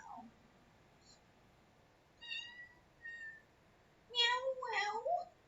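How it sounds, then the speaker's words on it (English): A cat meows loudly several times close by, short faint calls building to a longer, louder drawn-out meow near the end, with quiet background and a brief human murmur. "Oh, wow. Big meow."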